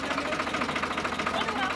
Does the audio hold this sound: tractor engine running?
yes